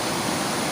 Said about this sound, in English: It is topmost part of this waterfall.